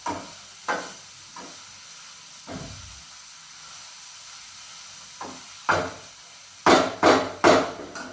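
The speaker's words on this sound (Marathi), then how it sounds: "हे मिश्रण चांगले हलवून घेऊ आणि परत आपण गॅसवर ठेवू" Cabbage mixture being stirred in a pan on a gas stove: scattered spoon scrapes and knocks against the pan over quiet background, ending in three louder, quick clattering strokes.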